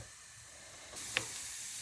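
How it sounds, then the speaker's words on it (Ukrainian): Sliced onions frying in a pan give a steady, soft sizzle that grows a little louder partway through, with one faint click, heard alone. "Цибульку нарізали і жаримо до прозрачність."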